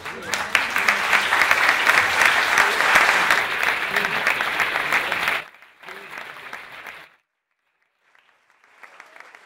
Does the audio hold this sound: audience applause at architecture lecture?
yes